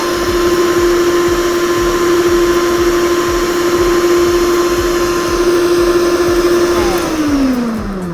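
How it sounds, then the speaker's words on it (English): Electric stand mixer running loud and close with a steady high whine and churning motor noise, winding down in pitch near the end. "I am going to take the mixer itself off of the stand."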